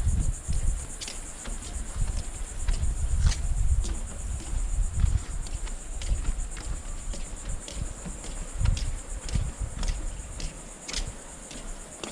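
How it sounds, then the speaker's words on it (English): Cicadas drone with a steady high-pitched buzz throughout on the dunes at Tybee Island beach, Georgia, with scattered clicks and low rumbling movement nearby. "Hear the cicadas"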